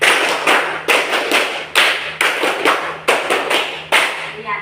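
A class claps out a counted rhythm in a schoolroom, sharp unison claps grouped in repeated bursts of several quick claps separated by short pauses, loud and close with no talking.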